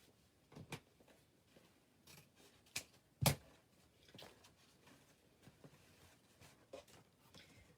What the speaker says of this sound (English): Let's see what I do with these fancy new scissors I got.